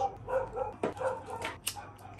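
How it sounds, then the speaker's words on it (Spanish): Dogs barking out in the street, a few separate barks and yips scattered at a moderate distance across a couple of seconds, with no talking. "Voy a aprovechar el sonido de los perros en la calle"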